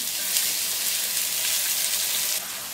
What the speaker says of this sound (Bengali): আদা ও রসুন বাটাটাকে একটু ভেজে নিলাম।